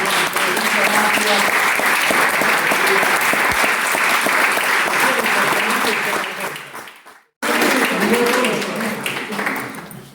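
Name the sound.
applause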